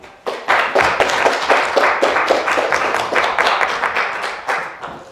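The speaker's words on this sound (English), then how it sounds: "Let's put a warm round of applause together for our first guest, Dylan Crum." An audience applauds a comedian at a live show, a burst of dense clapping that starts abruptly and carries on steadily, fairly close and loud, with no talk over it.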